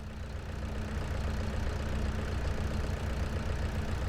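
Steady low rumble of a tractor engine idling in a farm simulator game, a constant even drone with no talking.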